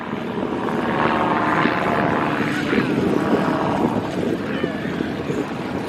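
A 230-horsepower propeller aircraft with a streamlined cowling and larger rudder flies at an airshow, its engine a loud, sustained droning roar throughout, with a voice talking over it.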